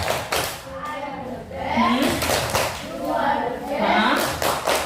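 A class of children chants the rhythmic 'tepuk the best' clapping cheer, with sung phrases punctuated by sharp, steady claps in a brisk pattern over several seconds.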